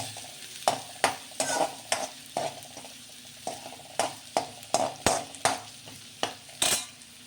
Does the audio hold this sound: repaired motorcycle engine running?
no